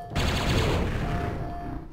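Rapid, dense gunfire-like blasts from a grenade launcher in the video game Quake, loud and continuous over two seconds with no talk.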